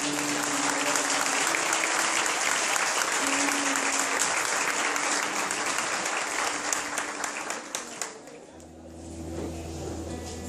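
A church congregation at a Cerco de Jericó service in Mauá applauds the Lord, with dense, steady clapping that fills the room for about eight seconds before fading, followed by a low organ-like hum.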